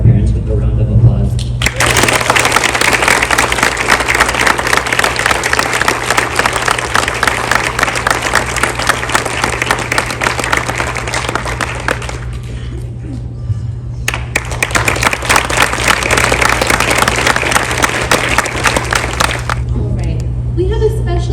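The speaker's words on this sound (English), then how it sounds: "Can we please show our gratitude to our parents with a round of applause?" Graduating students and guests at a school graduation ceremony applaud the parents in a long, loud round of clapping that briefly dips and then swells again, over a steady low hum from the room.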